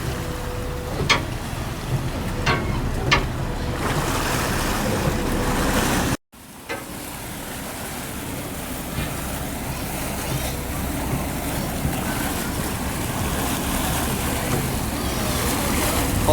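A small boat crosses open water toward a distant island, engine drone and wind rushing over the microphone, with lapping waves beneath and a few brief voices early on.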